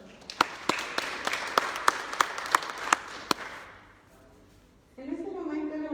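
A seated audience claps for a guest speaker, a few sharp distinct claps over softer scattered applause that fades out, followed by a voice speaking once the clapping stops.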